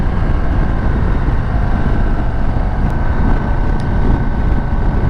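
A 2022 Harley-Davidson Low Rider ST cruiser motorcycle engine drones steadily while riding, its low rumble heavily mixed with constant wind rush over the microphone, with no talk.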